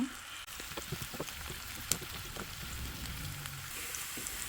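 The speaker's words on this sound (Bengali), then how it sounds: "এখানে একটু বেরেস্তা করে নিচ্ছি হালিমের সাথে মিশিয়ে দেওয়ার জন্য" Onions frying in hot oil for beresta to mix into haleem: a continuous, moderately quiet sizzle with scattered small crackles and pops.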